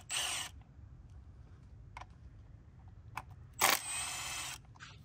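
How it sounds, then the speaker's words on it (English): Two 10 millimeter bolts come out of a Volvo P2 fuel rail, heard as short sharp ratchet clicks in a few bursts with quiet gaps between, close and alone. "now we're going to remove the two 10 millimeter bolts that hold in the fuel rail itself"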